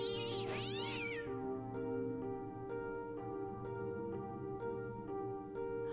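Cat meows from the video game Fran Bow, a loud, strained cry at the opening that sweeps up and fades, followed by sustained tonal game music with no speech.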